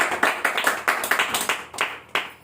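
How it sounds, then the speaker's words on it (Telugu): Church congregation clapping hands in a steady, rhythmic beat, about a dozen sharp claps close by in quick succession, with no voices heard. "హల్లెలూయా, చప్పట్లు కొడదాం."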